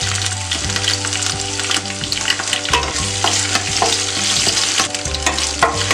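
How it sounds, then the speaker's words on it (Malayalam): Curry leaves fry and sizzle steadily in hot oil in a pan while being stirred, with occasional scraping taps, for a kothu chapathi dish; continuous, close and moderately loud, no talk. "കറിവേപ്പില ഒന്ന് നന്നായിട്ടൊന്ന് മൂക്കണം."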